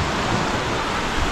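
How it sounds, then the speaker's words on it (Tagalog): Sea waves rolling in and breaking on a windy beach shore, a loud, broad wash of surf noise with steady roar and slight surges, close and unbroken. "Yung pasampas ang alon guys."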